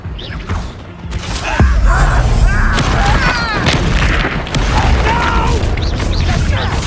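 Confringo fire spell explosions in the Hogwarts Legacy video game, several loud booming blasts and crackling bursts layered over busy combat effects and music, with spoken game dialogue mixed in.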